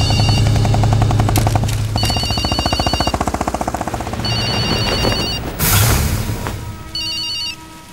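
A mobile phone lying with someone sleeping by the road rings loudly in repeated electronic bursts, mixed with sharp gunfire-like blasts and dramatic film sound effects.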